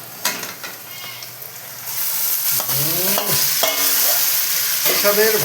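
Marinated mutton tipped into a pan of browned onions for mutton curry: a light sizzle jumps to a loud, continuous frying hiss, with spatula scrapes and squeaks as the meat is stirred, up close.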